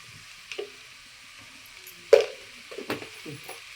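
Vegetables such as peppers hitting a hot pan for frying noodles, giving a faint sizzle with a few louder spatters and stirring clatters, sparse and fairly quiet.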